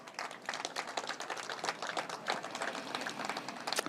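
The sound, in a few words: audience applause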